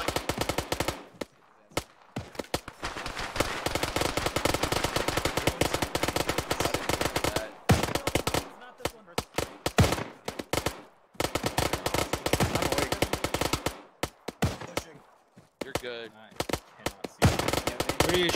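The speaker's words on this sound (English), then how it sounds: "What are you shooting at there?" Gunfire in a military video game: long, loud bursts of automatic weapon fire rattle almost continuously, broken by brief pauses, with the voices of players heard in between.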